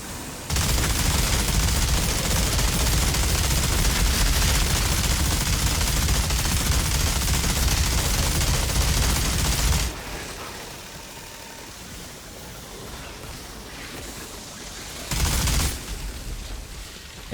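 Minigun fire in the video game Outriders, a dense, loud continuous roar of rapid shots for about ten seconds, then quieter action with another short burst near fifteen seconds.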